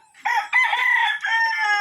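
A rooster crows once, loud and close, a drawn-out bright call with a few breaks, in a small backyard in Sorsogon, Philippines, no people talking.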